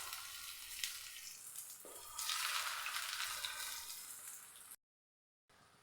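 A wheat flour snack frying in a little oil in a pan gives a steady, soft sizzle that swells partway through, then cuts off briefly before resuming.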